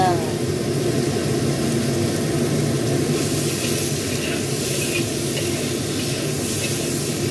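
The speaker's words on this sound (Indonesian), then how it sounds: "Kita tumis-tumis sampai dengan ati ayamnya setengah mateng." Chicken liver stir-fries in a hot pan with a loud, dense, unbroken sizzle that holds steady from start to finish, rising slightly in brightness midway.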